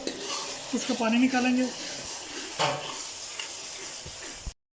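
Spinach sizzles steadily in a hot pan while it is stirred through, with a person speaking briefly over the cooking noise.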